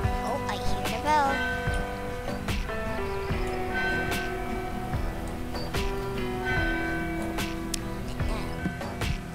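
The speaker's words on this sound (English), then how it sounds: "Oh, I hear the bell." A video game bell rings with sustained tonal peals and several sharp strikes over roughly nine seconds, layered with other game sounds and a quiet voice.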